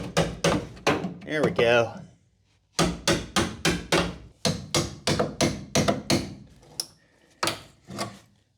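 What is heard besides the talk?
tapping with a seam separator on car body metal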